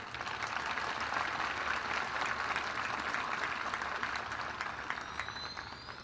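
A graduation audience at a high school ceremony applauds steadily and loudly, a dense wash of many hands clapping that holds for several seconds before beginning to ease off.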